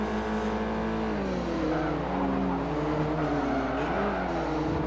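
Evo and STI race cars accelerating at Mugello, a steady loud engine drone with rising and shifting pitch throughout, close and continuous with no talk.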